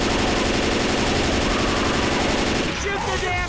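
Dense, loud automatic gunfire from the video game Left 4 Dead 2 on a custom survival map set in a McDonald's, a continuous rapid burst that breaks into scattered noise near the end, with a voice mixed in.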